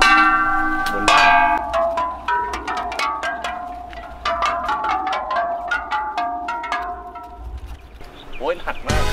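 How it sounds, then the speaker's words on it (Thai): Temple bells are struck one after another in a rapid series of ringing metallic strikes at varied pitches, each decaying briefly while the next sounds, close and fairly loud with some background murmur. "โดยการที่เราจะเคาะระฆังไปเรื่อยๆนะครับ"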